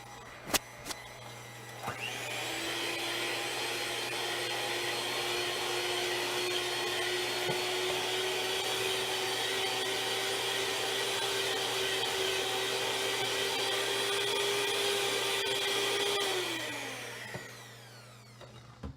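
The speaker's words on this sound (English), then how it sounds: "I'm going to use the mixer to do that. I'm going to mix this for about a minute." An electric hand mixer whirs steadily for about fifteen seconds while blending chewy brownie batter in a home kitchen, starting with a clear spin-up and winding down at the end, close and loud with no talking.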